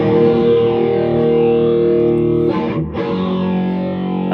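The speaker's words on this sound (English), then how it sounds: "a riff he sent me that was an idea for a break" A distorted electric guitar plays a riff meant as a song break, loud and sustained with a thick effected tone and a brief dip partway through before ringing on alone.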